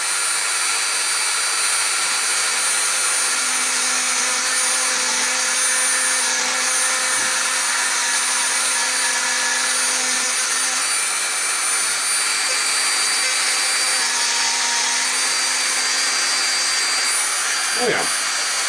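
A small engine, the FUM0130 Stirshurst Engine 8, runs at 15,000 revolutions per minute with a loud, steady, high-pitched whine and rush that holds unbroken for the whole stretch.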